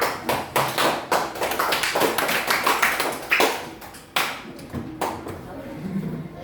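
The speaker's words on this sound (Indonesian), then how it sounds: "Kita tepuk tangan untuk kita semua" A classroom of students claps their hands together in a brisk burst of sharp, separate slaps that thin out toward the end, with some children's voices mixed in.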